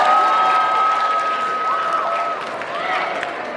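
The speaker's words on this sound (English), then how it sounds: "Give them one more round of applause." Loud applause and cheering from a crowd at a 2023 Black History Month school program, a steady wash of clapping with whoops and shouts on top, fading slightly toward the end.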